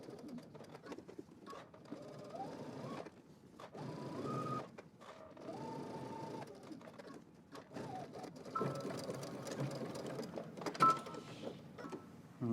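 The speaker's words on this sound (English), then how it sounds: "while you're here at the machine, you can do your 2 rows of stitching, of top stitching" A home sewing machine runs bursts of top stitching on a garment, a whirring motor with rising and falling pitch in several short runs separated by pauses, close and moderately loud.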